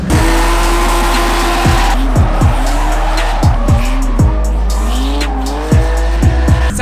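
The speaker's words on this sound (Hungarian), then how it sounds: "Autó működik, minden 8 henger megy, nem úgy, mint tegnap." A V8 drift car at an AMTS drift event roars loudly and continuously, its engine pitch swinging up and down through repeated revs while tires squeal and skid close by.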